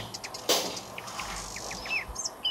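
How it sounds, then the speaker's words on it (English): Game birdsong in Minecraft at morning: a few short, faint chirps and tweets scattered over a quiet ambient background, with one brief louder knock near the start. "what's the bird chirping noise?"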